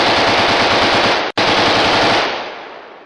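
A Kalashnikov rifle fires a fast, loud burst of automatic gunfire that runs almost three seconds with one brief break, then trails off.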